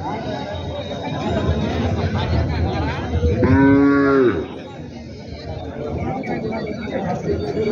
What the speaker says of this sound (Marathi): गाई आणि म्हशी आलेल्या आहेत मित्रांनो बाजारामध्ये